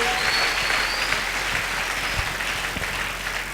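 A church congregation applauds and cheers loudly for Jesus at a Sunday service, sustained dense clapping at a steady high level with no break for the whole stretch.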